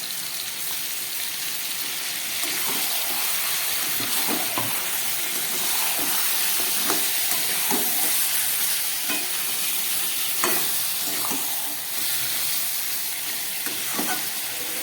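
Ground spice paste for chicken curry frying in hot oil, a loud steady sizzle and hiss with repeated scraping stirs of a spoon against the pan, close up throughout.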